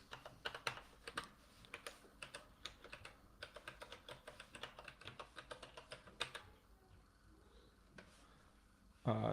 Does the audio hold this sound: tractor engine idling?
no